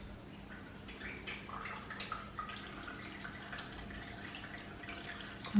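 Water drips and trickles from a tap, small irregular splashes over a steady faint hiss, close by with no one talking.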